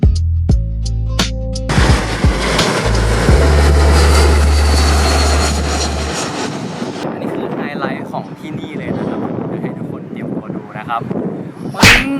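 A jet airplane passes overhead near Suvarnabhumi airport, a loud sustained roar that swells and then slowly fades into the distance, with people talking over it and sharp handling knocks and clicks at the start.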